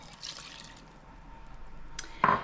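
Water pours faintly into cake batter for a cinnamon coffee cake, giving soft trickling and dripping in a quiet kitchen, with a brief brighter splash near the end.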